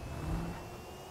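A car engine revs in GTA 5, a steady mid-pitched whir that swells briefly early on and then holds at a moderate level, with no talking over it.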